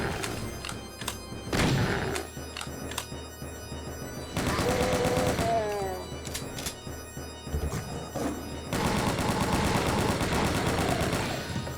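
Rapid chaingun fire in a Doom II sewer area, loud bursts of repeated gunshots mixed with game music and effects, with two sustained barrages separated by a brief lull.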